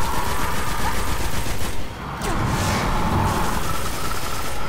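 Heavy gunfire from a big gun in the video game Destiny, a dense continuous burst of loud shots running almost the whole time with a brief dip midway.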